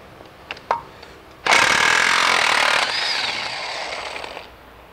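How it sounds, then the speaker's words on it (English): Impact wrench loosening the axle nut on a Saab 9-5, using a 32 mm socket during a CV axle replacement; a few short knocks, then a loud sustained burst of hammering rattle lasting about three seconds that winds down slightly toward the end. "That's why we use impact."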